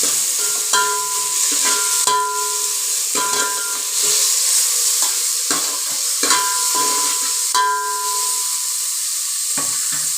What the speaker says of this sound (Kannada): ಕೊತ್ತಂಬರಿ ಮತ್ತು ಪುದೀನ ತೊಳೆದಿಟ್ಕೊಂಡಿದ್ವಲ್ಲ ಅದನ್ನು ಹಾಕೊತಾ ಇದ್ದೀನಿ ಇದನ್ನು ಸ್ವಲ್ಪ ಬಾಡಿಸ್ಕೊಳ್ಳಿ ಅಂದರೆ ಫ್ರೈ ಮಾಡ್ಕೊಳ್ಳಿ